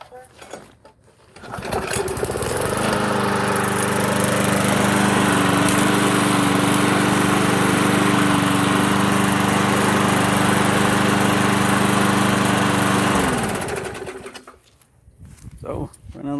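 Restored small lawn mower petrol engine starting and running steadily at a constant high idle for about ten seconds, loud and close, then cutting off, with birds faintly audible before and after.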